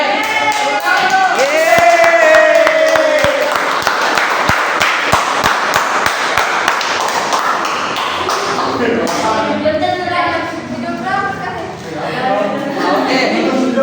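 Students clap in a classroom during a microteaching session, a brief burst of quick, uneven claps that then gives way to voices talking.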